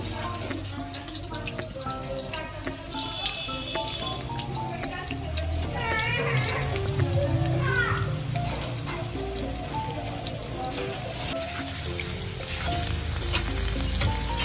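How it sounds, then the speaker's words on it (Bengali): Potatoes frying in hot oil, a loud, steady sizzle with occasional clinks of stirring, close by and continuous. "এবার আমি সবজিগুলো ভেজে নেব। এখানে আলু ভেজে নেব।"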